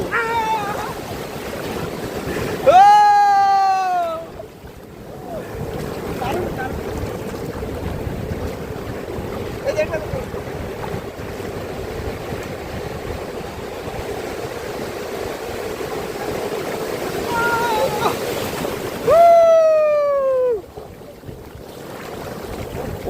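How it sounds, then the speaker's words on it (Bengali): Wind and sea waves rush continuously around a moving boat, with a steady engine drone and two loud whooping cries rising above it. "সমুদ্রের ঢেউ"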